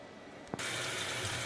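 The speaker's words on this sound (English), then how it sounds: "Let's add water one more time." Water suddenly starts pouring into a cooking pot of browned lamb chunks, a steady rushing splash that continues to the end after a brief clunk.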